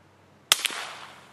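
A single sharp report from a CZ 452 rifle firing Aguila subsonic rounds, with a brief second crack just after and a short fading tail, against a quiet background.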